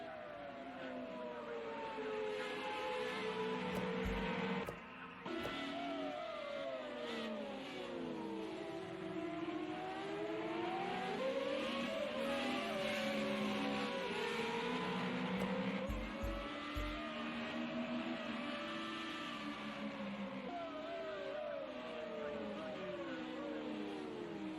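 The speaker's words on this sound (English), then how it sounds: "Three cars over the crest of the hill down the front straightaway" Formula race cars in an FR35 race at the Algarve circuit, three running close together over a crest and down the front straight on lap 15, engines revving and rising in pitch continuously, loud and near throughout.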